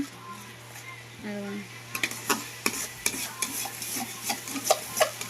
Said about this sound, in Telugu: అన్నిట్లో పైన వేసేసుకొని మసాలాకు పట్టేటట్టుగా బాగా కలిదిప్పేసేసుకున్నా